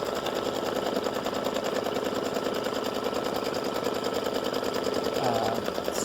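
An embroidery machine fitted with a 65/9 needle stitches through card stock, a fast, even mechanical tapping that runs steadily and close up throughout, with a brief higher whir near the end.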